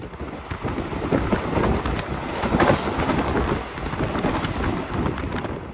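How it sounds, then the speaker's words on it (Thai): A Thai high-speed rail line train running past Khok Kruat station between Sikhio and Nakhon Ratchasima, a steady loud rumble with wind buffeting the microphone throughout, no talk. "ตอนนี้ขบวนรถไฟของเราก็กำลังจะวิ่งผ่านสถานีโคกเกลืดครับ"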